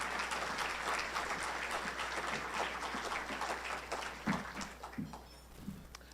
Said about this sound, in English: just wanted everybody to give her applause and say thank you for everything.